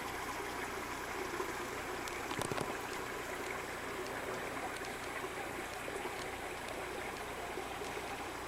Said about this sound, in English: Notice how clear this spring-fed stream water is.